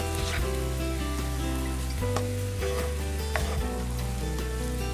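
Beef and vegetables stirred together in a pan for a stir fry, a steady sizzle with soft scraping and occasional clicks of the utensil, close and continuous with no talking.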